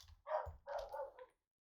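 A dog indoors lets out two or three quick, sharp barks close by, then falls silent.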